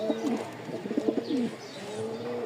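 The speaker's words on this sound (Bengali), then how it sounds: "একজোড়া লাল সুন্দরী খুব সুন্দর একটা মার্শাল্লাহ কবুতর জোড়াটা" A pair of red Giribaz pigeons coo in soft, repeated throaty bursts close by, several rolling calls in quick succession followed by a quieter pause.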